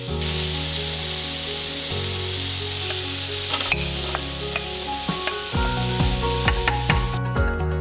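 Onions sizzle steadily as they soften in a preheated Amazon multicooker, a continuous close frying hiss broken by occasional stirring clinks and scrapes, with no voices.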